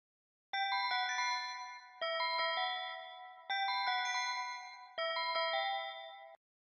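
A bright, bell-like synth melody plays in four repeated phrases, clean and dry with no added effects, nothing else underneath.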